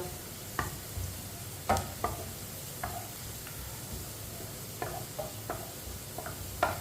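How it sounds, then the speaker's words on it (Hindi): Chopped onions brown in a hot pan while being stirred with a spoon, giving a steady, close sizzle broken by scattered scrapes and clinks of the spoon against the pan. "प्याज को ना अच्छी तरह ब्राउन करना है।"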